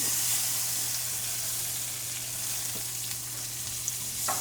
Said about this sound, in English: Okay, so our butter is melting.